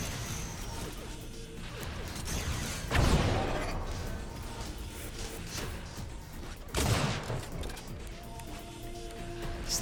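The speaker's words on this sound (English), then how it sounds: "Slay with a sliding sniper shot." Sniper rifle fire in the video game Unreal Tournament: two sharp, loud shots a few seconds apart, each with a crashing impact, over busy game noise.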